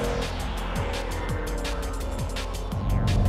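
A 2020 Jaguar F-Pace SVR engine revs hard nearby, its loud roar climbing in short repeated pulls with brief breaks between them.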